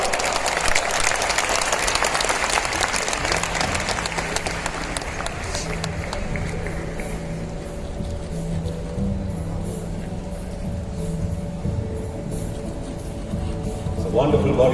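A large audience at a film festival closing ceremony in Goa, India claps loudly and densely at first. The clapping fades after a few seconds, leaving a quieter hall with a low steady hum and some talk.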